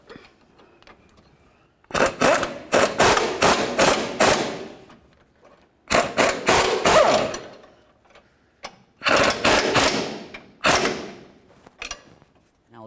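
Nuts being snugged onto the idler arm of a 1999-2007 Chevy Silverado, heard as three bursts of rapid ratcheting clicks, each lasting one to two seconds and separated by short quiet gaps.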